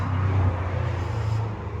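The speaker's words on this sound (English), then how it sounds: "There seem to be a lot of noisy cars going past today" Cars going past on a nearby road, a steady low rumble of traffic with a slight swell at the start, continuous through the moment with no talk.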